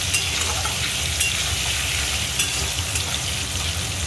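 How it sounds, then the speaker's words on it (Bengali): Potato pieces frying in plenty of hot oil with turmeric, a steady, dense sizzle that holds loud and constant from start to finish, with faint stirring scrapes now and then. "একটু হলুদ দিয়ে দেবো, দিয়ে আলুগুলো আমি লাল লাল করে ভেজে নেব।"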